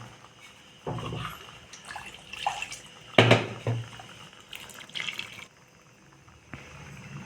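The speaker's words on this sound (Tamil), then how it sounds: "இப்போ தேவையான அளவுக்கு இதில் கொஞ்சம் தண்ணி சேர்த்துக்கலாம்." Water is poured into ground greens and moong dal in a kitchen, brief splashing and trickling bursts in a few separate pours, close and moderately loud.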